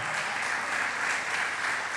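A church congregation applauds steadily through a sermon pause, a dense, even wash of clapping that holds at the same loudness from start to finish with no voices rising above it.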